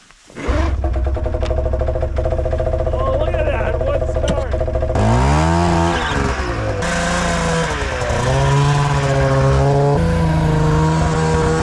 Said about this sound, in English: got that two-stroke running. Smokes like a chimney, but it works.